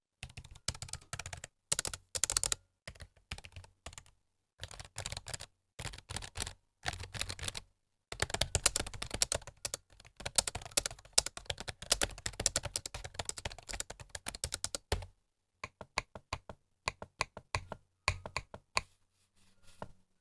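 Close-up typing on a CZUR keyboard, a dense run of crisp key clicks in bursts separated by short pauses, ending with slower, sparser taps; no talking.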